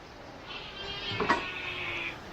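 A hungry cat meows once for food at an old village house in the morning, a faint, short call over steady background hiss and low room noise.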